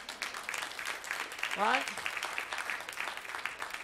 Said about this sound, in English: I heard some claps going.